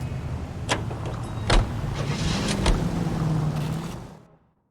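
A car driven in the game L.A. Noire, engine rumbling steadily with a few sharp clunks and a rising whine, then cutting out abruptly to silence near the end.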